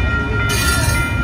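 Articulated train wagons rolling close by, a loud steady rumble overlaid with high metallic wheel squeal that brightens partway through.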